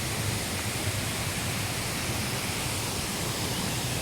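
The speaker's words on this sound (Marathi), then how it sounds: "आता हा जो रस्ता आहे तिकडे मी आता गाडी आलो आहे आणि हा तो धबधबा आहे" A steady, dense roar of falling water from a secluded waterfall near a roadside fills the whole stretch evenly, loud and unbroken, with no voices.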